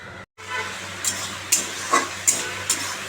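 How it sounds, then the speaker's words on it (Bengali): Ground dried Kashmiri chilli, turmeric and salt stirred in hot oil in a pan, a steady sizzle with a few sharp scraping strokes of the spoon spaced through, close and moderately loud with no talking. "দেখো মশলাগুলো দিয়ে দিচ্ছি এখন মশলাটা কষিয়ে নিচ্ছি ভালো করে"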